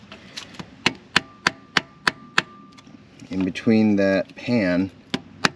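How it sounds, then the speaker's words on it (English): A rubber mallet taps a putty knife wedged between a Chrysler/Dodge six-speed transmission pan and the case: nine evenly spaced, sharp close knocks, then a person speaks over the last few taps. "We have a rubber mallet. and we're going to try and kind of work our way around."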